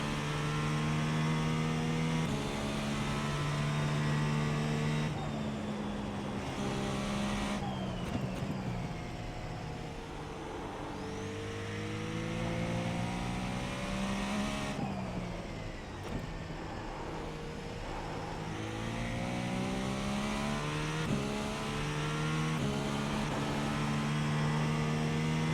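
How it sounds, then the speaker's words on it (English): A race car engine in the iRacing sim with a TA drag racer at the Nordschleife, revving steadily with rising and falling pitch sweeps as gears drop through a couple of downshifts, loud and continuous with no talking. "Downshift a couple more times and then one more time."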